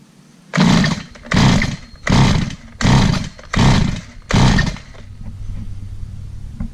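A chainsaw is pulled over six times during a compression test with the throttle open, each pull a loud rasping burst in an even rhythm, close up, then a low steady hum afterward.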